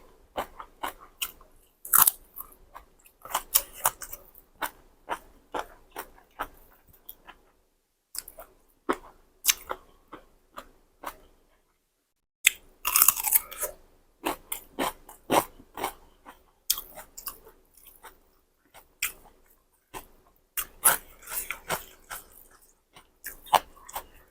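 Close, crisp crunching and biting on spicy Thai squid tentacle salad, a steady run of irregular chewing crunches with brief pauses between mouthfuls, loud and near with no talk.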